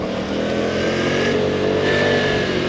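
A Piaggio scooter engine hums steadily while riding along 30 to 40 mph town roads, a close, continuous drone with mild pitch rises as it accelerates and wind noise throughout.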